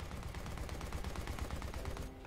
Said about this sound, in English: In range, open fire.